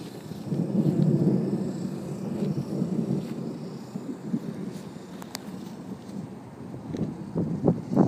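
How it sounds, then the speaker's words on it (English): Low rolling thunder from an approaching storm rumbles on a hot day outdoors, a long distant swell with wind noise and faint clicks over it. "storm's coming, you know, the thunder in the back."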